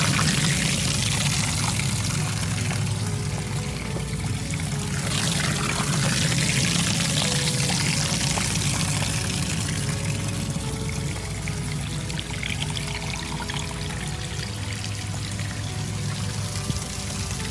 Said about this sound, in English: There's the pump, kind of doing its thing. Here's the waterfall.